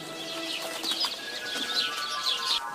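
Asian koel calling in the morning outdoors, a series of rising whistled notes repeating every half second or so, moderately loud against a steady background hum with faint chirps.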